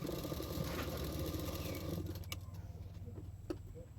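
A sewing machine stitches the folded back edge of a blouse, its motor running in a fast steady whir that fades after about two seconds, followed by a few light clicks.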